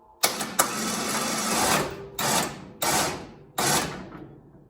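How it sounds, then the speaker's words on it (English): CFMOTO CForce ATV winch paying out cable while a Kolpin Switchblade snow plow is installed, heard as several short close motor bursts with brief pauses between them. "we're just gonna let out the winch"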